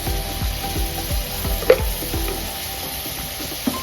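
Mutton pieces go into frying ginger-garlic paste in a pan, setting off a steady sizzle with a run of soft rhythmic knocks and one sharp clink of a spoon, close and without talk.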